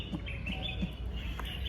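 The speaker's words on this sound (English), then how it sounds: "I love these birds, y'all. The songs is just so amazing." Birds singing outdoors in the Gambia, with a few short chirps and whistled notes standing out over a steady low background rumble, moderately faint and without voices.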